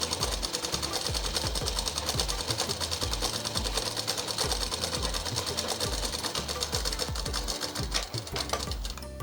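A sewing machine lays a double row of stitching along a folded seam on a plain frock, a continuous rhythmic rapid thumping and whirring that stays close and even throughout.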